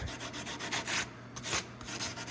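Bench wood is sanded by hand with a sanding pad, giving repeated rasping strokes in an irregular back-and-forth rhythm, close and moderately loud with no talking.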